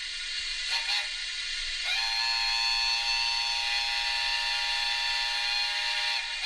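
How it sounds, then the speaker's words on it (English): A long, sustained steam whistle from a TT:120 model Mallard locomotive blows steadily for several seconds after a brief short toot, loud and close over a faint hiss. "That is a long whistle"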